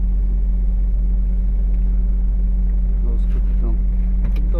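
A loaded delivery truck pulls away on a city street in Novosibirsk, Siberia, its steady diesel engine drone and rumble close and loud inside the cab, with a few faint clicks and short sounds near the end.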